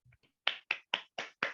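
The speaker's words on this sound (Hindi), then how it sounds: "दोस्तों एक जोरदार तालियां।" Five crisp, evenly spaced claps ring out close and fairly faint over a call connection, preceded by a couple of soft taps, with no talking.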